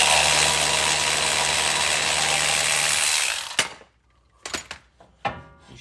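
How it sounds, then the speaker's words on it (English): A power tool whirs steadily while loosening a 19 mm brake caliper bolt on a fifth-generation Toyota 4Runner, then cuts off, leaving a few sharp metallic clicks and knocks close by. "while you loosen the top 19 millimeter, hold the bottom of your brake caliper so it doesn't fall off"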